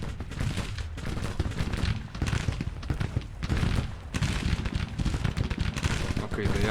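Crackling musket volleys and scattered shots from the Civil War strategy game Grand Tactician, ragged bursts of fire rolling on and off with deep booms mixed in, fairly loud and sustained.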